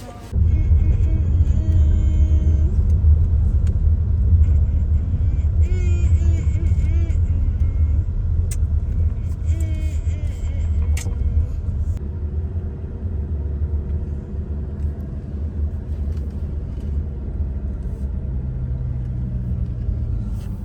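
Car interior while driving through Lviv, a continuous low road and engine rumble throughout, with a voice and someone talking over it at times.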